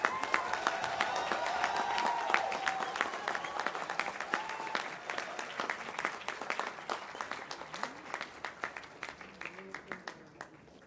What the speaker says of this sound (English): Let's give a big round of applause to all our MTech graduates.